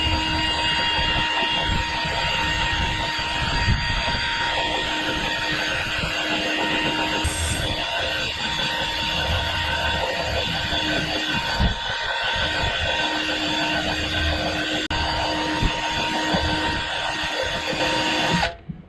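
A slow-RPM power tool buffing the inside of a tire for a patch, giving a steady, close whirring drone with a constant tonal hum and rough scuffing texture, running without pause until it stops near the end.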